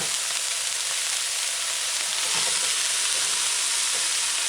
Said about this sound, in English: Right after that, add your shredded callaloo.